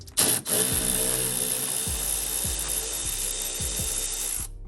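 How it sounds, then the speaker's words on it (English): A hand power tool whirs steadily while unscrewing bumper screws on an Audi R8, a continuous close drone with a few short ratcheting bursts and clicks at the start and along the way, no voices. "get your tool in there and unscrew it"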